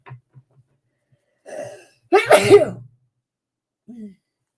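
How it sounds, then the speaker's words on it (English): A single loud, close sneeze bursts out after a short catching breath, with quiet silence around it. "I feel a sneeze coming on."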